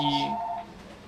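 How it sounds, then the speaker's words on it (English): A telephone rings indoors in a short electronic burst of steady tones that fade within a second, heard alone at moderate loudness. "Phone's ringing"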